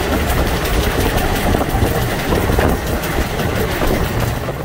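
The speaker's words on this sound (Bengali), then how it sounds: "আর আমি এখন যাচ্ছি কিন্তু হাওড়া কবিগুরু এক্সপ্রেসে করে ওই মন্দার হিল স্টেশন নামবো" The Howrah Kabiguru Express rolls along between Bhagalpur and Mandar Hill in Bihar, a loud, steady rumble of wheels and carriage noise heard from inside the train with faint rhythmic clatter.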